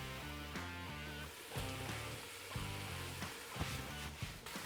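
Onions, peppers, jalapenos and garlic sautéing for brisket chili give a steady soft sizzle and crackle, fairly quiet, with a few louder pops toward the end and tonal background music running underneath.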